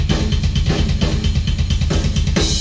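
Full drum kit in a rough mix of all drum microphones playing a fast pattern, thudding kicks under a constant wash of cymbals, loud and close.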